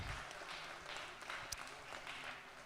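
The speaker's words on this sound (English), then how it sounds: "Y'all give these pages a big round of applause" Applause in a state legislative chamber for the visiting pages, a steady wash of many hands clapping at moderate loudness for a few seconds with faint voices underneath.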